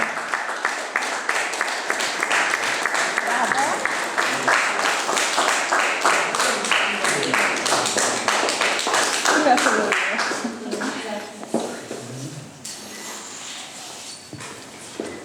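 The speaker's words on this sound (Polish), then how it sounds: "Brawa dla Ważne Karoleny." An audience at a museum event applauds an award winner, moderate clapping that runs under a speaker's voice for about ten seconds before fading as talking continues alone.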